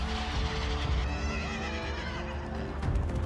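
A horse in the 1991 French wartime film Pour Sacha gives a drawn-out, quavering neigh, heard up close over a dense, constant background.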